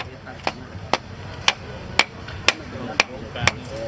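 Eight evenly spaced, sharp hammer blows ring out about every half second as a wooden stake is driven at a ceremony, the strikes standing clearly above a low murmur of background voices.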